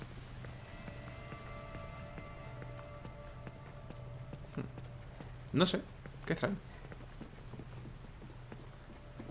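Horse hooves in The Last of Us Left Behind video game give two brief clusters of clip-clopping midway through, standing out over a steady low hum while a person speaks quietly.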